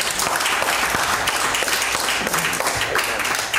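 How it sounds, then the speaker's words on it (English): Church congregation clapping hands together in worship, a dense, lively wash of many hands applauding at close range, with no talking. "Give the Lord a hand clap."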